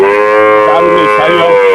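A cow moos loudly and close by at a cattle market, a long drawn-out low call with a wavering pitch through the middle, heard on its own.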